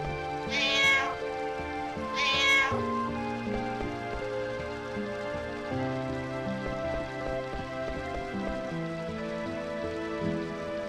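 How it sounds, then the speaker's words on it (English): A cat meows twice when petted on a fireplace in Final Fantasy IX, two short clear meows early on over steady, layered game music with no talk. "I'm gonna pet the kitty on the fireplace"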